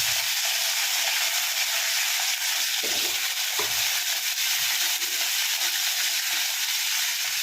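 Chopped brinjal and small shallots drop into hot oil with curry leaves for a tamarind kuzhambu, giving a loud, continuous sizzling hiss that runs steadily for several seconds with no one speaking.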